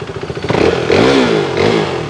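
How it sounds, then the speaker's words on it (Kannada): A second-hand Yamaha R15 motorcycle with 34,000 km on it idles up close, a loud steady engine hum with a slight rise in revs and a faint mechanical clatter. "ಇವಾಗ ಈ ಗಾಡಿ ಸೌಂಡ್ ಕೇಳೋಣ"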